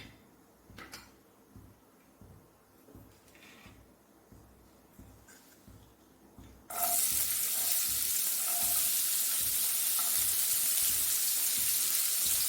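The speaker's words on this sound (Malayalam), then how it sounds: "അതിലേക്ക് നമുക്ക് ഈ സവോള ഇട്ട് കൊടുക്കാം" Onions dropped into a hot pan for Kerala egg rice burst into a loud, steady sizzle halfway through, after a quieter stretch of soft kitchen clatter and stirring.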